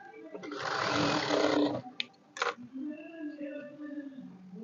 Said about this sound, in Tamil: இந்த தையல் போடும்போது இந்த இடத்த இந்த மாதிரி மடித்து இப்படி ஒரு தையல் போட்டுருங்க